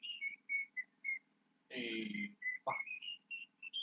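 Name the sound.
person whistling a tune imitating a bird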